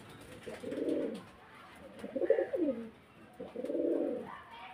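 Pigeons coo nearby in three soft, low rolling phrases separated by brief pauses, close and fairly clear against quiet background, no talking.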